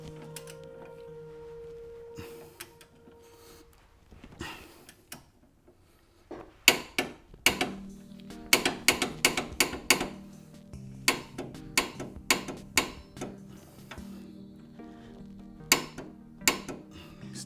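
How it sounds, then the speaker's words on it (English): A torque wrench set to 88 foot-pounds tightens ball joint nuts on a Hyundai Santa Fe, with sharp metallic ratcheting ticks coming in quick irregular bursts and separate clicks, loud and close. "got my torque wrench set to 88. Tighten this one up and do the rest after that"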